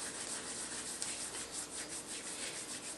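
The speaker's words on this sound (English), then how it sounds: "This is my own dried sage from my garden, and I'm just going to rub that down to bring out those essential oils" Dried garden sage crumbled and rubbed between the hands, a close, steady dry rustling and scratching that runs continuously for a few seconds with no talking.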